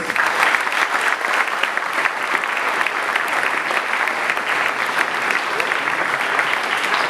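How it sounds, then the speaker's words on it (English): Sustained applause from a large audience at a boys' secondary school achievement day in Trinidad and Tobago, a dense, steady roar of clapping that holds at an even level throughout. "You need to give yourself a round of applause."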